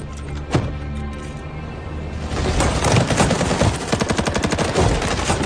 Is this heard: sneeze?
no